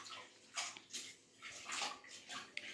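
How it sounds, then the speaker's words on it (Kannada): Potato pieces drop into a pot of sambar-style saaru with brinjal, making soft splashes and sloshing water sounds in several bursts, close by and with no talking. "ಹಾಗೆ ಈಗ ಅಮ್ಮ ಆಲೂಗಡ್ಡೆ ಹಾಕ್ತಿದ್ದಾರೆ ನೋಡಿ."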